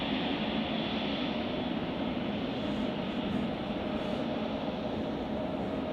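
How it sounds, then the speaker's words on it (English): A Boeing 777 taxiing to the far end of the runway at Chicago O'Hare Airport, heard as a faint, steady, distant jet-engine roar with a constant hiss and no breaks. "it's clear that this aircraft is taxiing to the very, very, very end of the runway"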